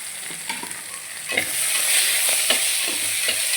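Tomato pieces, green chilli, mint and coriander frying in oil in a pan, a steady close sizzle broken by a few soft stirring scrapes, with no voices.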